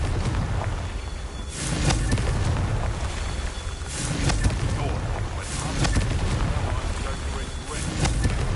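A Confringo fire-blast spell in Hogwarts Legacy produces several booming explosive blasts, each with a bright burst and a rumbling tail, recurring every few seconds amid combat noise.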